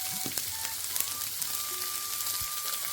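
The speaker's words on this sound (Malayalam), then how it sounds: "ഇനി ഇതിലേക്ക് നമ്മൾ എടുത്തു വെച്ചിട്ടുള്ള ബീൻസ് കട്ട് ചെയ്തത് ഇങ്ങോട്ട് ഇട്ട് കൊടുക്കാം." Chopped beans land in hot oil with mustard seeds, giving a soft, steady sizzle and crackle with scattered small pops, fairly quiet throughout.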